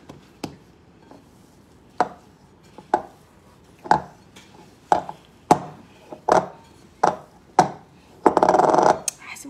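Sharp, evenly spaced knocks of a noisy pan or cookware in a home kitchen while gorditas de leche are made, about a dozen loud clattering hits ending in a brief burst of scraping rattle.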